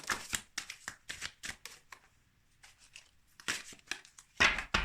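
Oracle cards shuffled by hand for a reading, a run of quick crisp riffling bursts close up, pausing briefly and then resuming, with no speech.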